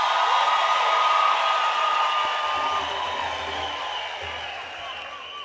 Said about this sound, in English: Can we give the choir a big round of applause for entertaining us?